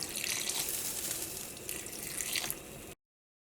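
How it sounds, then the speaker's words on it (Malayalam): Steady running water pours into a curry in a pan for about three seconds, a continuous splashing rush close by, then stops abruptly. "അപ്പോൾ ഇനി ഇതിലേക്ക് നമ്മൾ വെള്ളം ചേർക്കട്ടെ"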